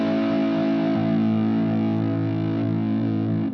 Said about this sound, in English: sorry about the distortion here